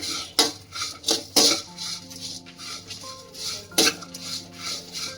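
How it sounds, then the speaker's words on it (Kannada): Whole spices such as cinnamon and pepper being dry-fried in a pan for chicken ghee roast, with repeated clinks and scrapes of a metal spoon against the pan in uneven bursts, close up with no talk. "ಮೆಣಸು ಎಲ್ಲವನ್ನು 1 ರಿಂದ 2 ನಿಮಿಷಗಳ ಕಾಲ ಫ್ರೈ ಮಾಡಬೇಕು"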